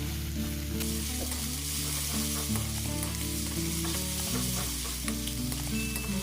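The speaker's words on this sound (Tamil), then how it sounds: "இப்போ இதில் நான் ஏற்கனவே இடித்து வச்சுருந்தேன் இந்த வெள்ளைப்பூடும் வெங்காயத்தையும் இதில் ஆட் பண்ணுறேன்." Crushed garlic and onion fry in hot oil for a Sri Lankan curry, a continuous close sizzle heard under background music.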